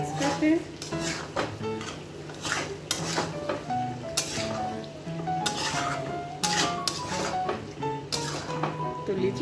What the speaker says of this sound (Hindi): धनिया पत्ता डाल के इसे अच्छे से मिक्स करते हैं